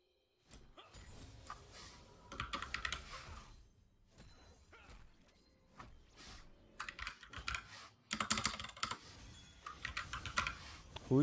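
Rapid bursts of typing on a computer keyboard during a League of Legends match, heard as close, clattering keystrokes in uneven clusters with brief pauses, and faint background voices.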